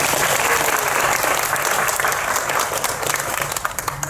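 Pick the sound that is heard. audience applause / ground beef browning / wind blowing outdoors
audience applause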